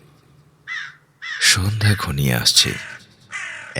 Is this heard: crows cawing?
yes